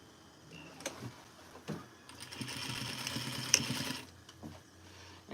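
Sewing machine stitching a turned-under serged hem on a duster garment, a quiet whirring run of rapid stitches for about two seconds, framed by a few isolated clicks and taps before and after.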